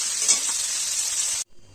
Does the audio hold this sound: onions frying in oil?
yes